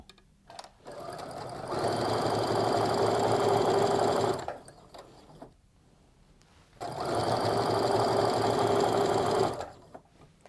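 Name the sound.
sewing machine chain piecing quilt fabric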